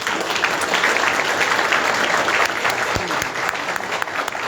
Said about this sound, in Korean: 힘찬 박수와 함성 부탁드리겠습니다